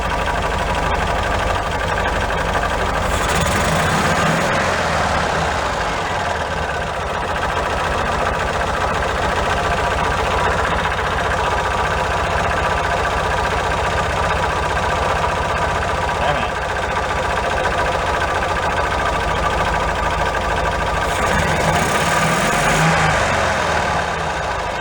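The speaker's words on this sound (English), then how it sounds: "I'm going to hold you guys, the camera, and rev it at the same time." Car engine running steadily for the whole stretch, with a couple of modest revs rising near the start and again toward the end, close and loud.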